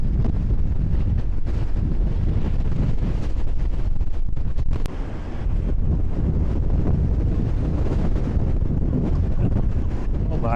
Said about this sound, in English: welcome to the windy corner